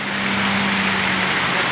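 Steady rain falling after a long hot spell in Rawalpindi and Islamabad, a continuous dense hiss of drops with an even loudness throughout and a faint low hum underneath, no voices.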